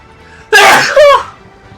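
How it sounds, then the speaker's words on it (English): A single close, loud sneeze bursts out as a sharp two-part explosion lasting under a second, with near-silence before and after. "Oh, I got a sneeze coming."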